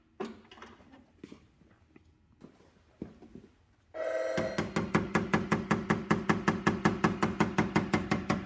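Faint tapping on a door dent during paintless dent repair with antique tools gives way to a loud phone ringing in a fast, steady electronic trill.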